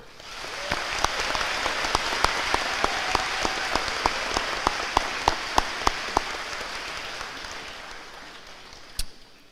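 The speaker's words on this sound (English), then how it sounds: "Please give a round of applause to Riley Work and Cale Cook." At a high school graduation ceremony, a large crowd applauds as a soft, steady patter with a few sharp, close claps standing out, then fades away.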